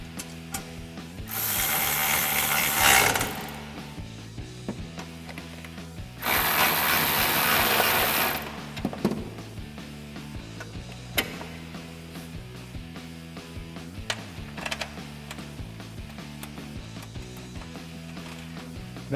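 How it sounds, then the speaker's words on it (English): A ratchet with a 13mm socket snugs an exhaust hanger bolt behind the differential of a 2015-2017 Mustang GT fitted with a C&L stainless cat-back, rapid close clicking throughout with two louder, harsher stretches of cranking. "we can snug those down using our 13mm socket"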